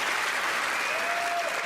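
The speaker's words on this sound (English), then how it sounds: "That was a well-rehearsed applause." A studio audience at a magic competition show claps steadily for a performer taking the stage, dense even applause with a faint whistle riding over it.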